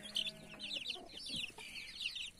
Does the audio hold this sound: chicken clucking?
yes